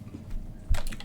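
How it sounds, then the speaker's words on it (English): Keystrokes on a computer keyboard as pwd is entered at a Bash command line on Windows, a low thump followed by a short burst of clicks within about a second, close and fairly clear. "You can see typing in pwd."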